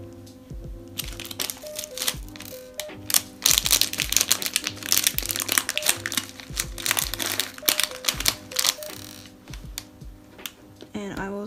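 Clear plastic beads being handled for a custom beaded bracelet, giving a run of small crinkly clicks and rattles close by, with background music running underneath throughout.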